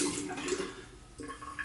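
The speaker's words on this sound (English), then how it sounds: "Gonna go ahead and run the razor underneath the water." Running tap water splashes steadily as a shaving razor is rinsed under it, a close, continuous wash with a brief surge near the end.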